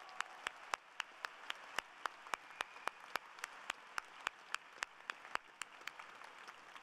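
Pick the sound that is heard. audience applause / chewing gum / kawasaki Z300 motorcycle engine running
audience applause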